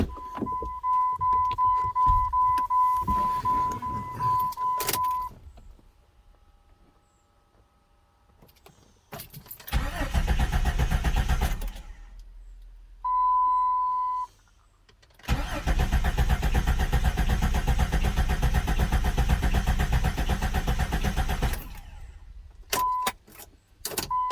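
A 1999-2004 Jeep Grand Cherokee with the 4.0 engine, freshly rebuilt after a head gasket replacement, heard through keys jangling, warning chimes and a long starter crank before the engine catches and runs steadily, loud and close.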